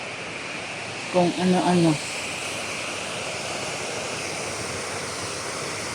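Wind blowing outdoors, a steady broadband rush that continues throughout, with a brief spoken phrase near the start.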